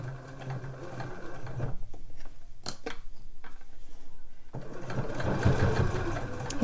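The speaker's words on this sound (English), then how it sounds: "It just made that little noise as it went over the pull loop because it's sewing through a few layers there" A domestic sewing machine stitches through several layers of fabric over the pull loop of a handmade slipper boot, a steady close mechanical whirr with rapid needle ticks and a few brief changes in pitch as it passes the thick spot.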